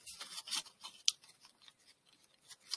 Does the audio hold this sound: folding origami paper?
yes